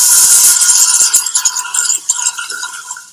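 Raffle tickets are stirred and shaken inside a container, giving a dense, bright papery rattle that starts loud and thins into scattered rustles and small knocks.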